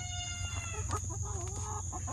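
Backyard chickens, two hens and their red rooster brother, cluck and call softly in a flock, with short warbling vocalizations rising over a low steady background hum.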